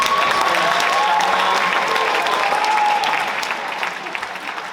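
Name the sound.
audience round of applause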